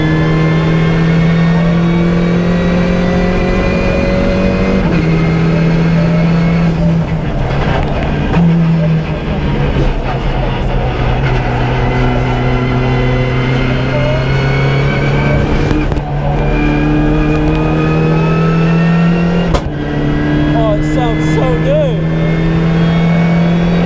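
A Renault Clio Cup race car lapping a track at a Palmer Sport track day: a loud, continuous engine drone heard from inside, its pitch climbing through the revs and dropping sharply at each gear change.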